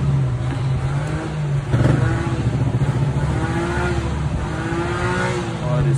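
Original Honda Vezel AC compressor running on a test, a steady close mechanical hum with a rhythmic engine-like pulse and a brief louder surge partway through.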